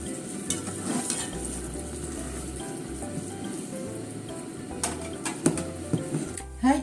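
Yellowtail teriyaki sizzling in a frying pan, a steady crackling fry with occasional scraping and clinking from stirring, moderately quiet and close.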